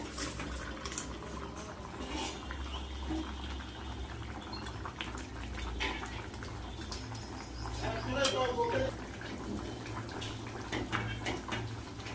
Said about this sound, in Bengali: মাছ ভাজাগুলো এবার ঝোলের মধ্যে দিয়ে দেবো ঝোল ফুটে গেছে